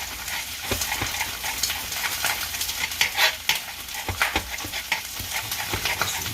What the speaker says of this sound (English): So you hear that popping away in there.